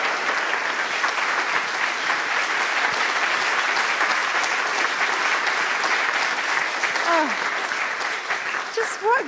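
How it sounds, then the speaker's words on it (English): Audience applause filling a room, a steady, even roar of many hands clapping that carries through the whole stretch, with a few faint voices near the end. "Great applause, Featherston."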